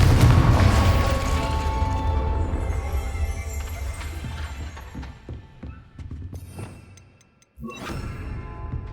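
An explosive Confringo spell fires in a Harry Potter video game, opening with a loud, deep rumbling boom that rolls and fades over several seconds, followed by lighter crackles and a short sharp burst near the end.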